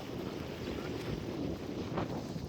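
Strong wind ahead of rain in a Gulf setting rushes and buffets the microphone in a low, continuous roar, fairly faint overall with small gusty swells.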